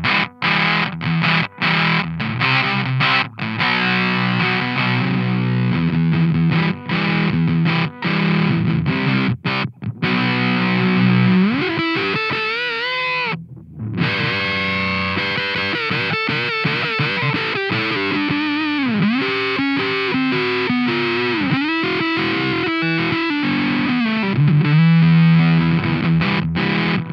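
A Warm Audio Foxy Tone Box fuzz pedal saturates an electric guitar with its fuzz set around the middle. Choppy strummed chords give way to sustained, bending lead notes, loud and continuous with one brief gap.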